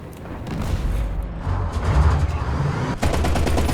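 An anti-aircraft machine gun fires in War Thunder, with dense, continuous rattling bursts and booms mixed with engine rumble. The firing sounds close and loud, with a brief break near the end before it resumes.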